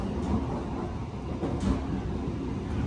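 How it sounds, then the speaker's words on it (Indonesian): A train rumbles through Lempuyangan railway station in Yogyakarta, a steady low rolling roar with faint hiss overhead, continuous and fairly near for the whole stretch with no talk. "Ini ada rangkaian kereta api"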